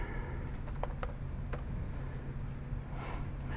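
Someone types a few quick keystrokes on a computer keyboard, sharp clicks in a short burst followed by quiet room hum.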